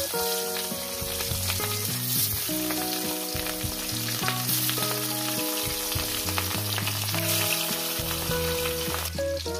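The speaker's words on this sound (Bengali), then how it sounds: "এবার মাছগুলো আমি এক এক করে ছেড়ে দেবো।" Rohu fish pieces frying in hot oil give a dense, constant crackling sizzle, loud and close, under steady background music.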